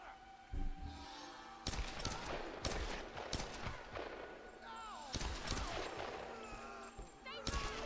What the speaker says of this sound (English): Oh, that guy's got a machine gun.